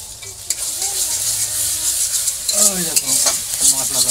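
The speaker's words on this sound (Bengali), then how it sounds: "আদা জিরে লঙ্কা সব আছে সেগুলো এখন দিয়ে কষাবো" Ginger, cumin and chili frying with onion and tomato in a pan for a home-style chicken dish, a steady loud sizzle with repeated stirring scrapes and clinks throughout.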